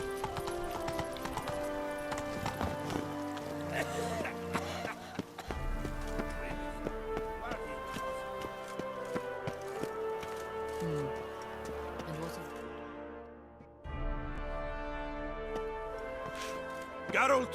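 Roach, Geralt's horse in The Witcher 3, gallops with steady rhythmic hoofbeats beneath layered game music and ambience, with voices speaking over parts of the run.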